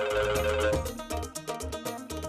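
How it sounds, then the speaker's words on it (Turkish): A mobile phone ringtone rings in an Indian drama scene, a loud, full melodic tune with steady pulsing beats that plays for the whole stretch without any talking. "Şimdi adını andık telefon ediyor."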